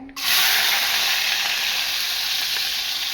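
Chopped garlic hits hot oil in a pan and sizzles loudly and steadily, a bright continuous hiss that starts abruptly and holds for a few seconds, with no talking over it.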